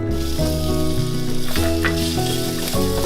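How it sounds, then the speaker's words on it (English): Garlic sautéing in olive oil in a skillet over medium heat, a steady loud sizzle and crackle of frying with occasional clinks and stirring scrapes throughout, no talking. "we're gonna saute our garlic"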